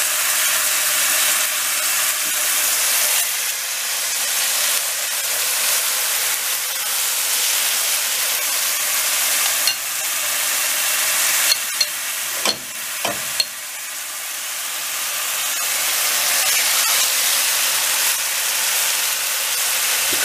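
Marinated chicken sizzles in a dry pan with a loud, steady hiss close by, broken by a few brief pops and crackles partway through.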